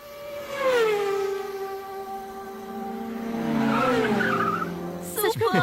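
A human voice imitates car and bike racing sounds, a drawn-out tonal vroom sliding down in pitch like a passing engine, then rising again with a skidding, squealing flourish at the end.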